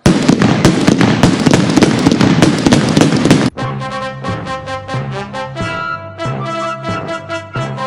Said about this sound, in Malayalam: ശത്രുദോഷം പെട്ടെന്ന് തീരാനുള്ള വെടി വഴിപാട്. വലിയ വെടി നാല്, ചെറിയ വെടി നാല്.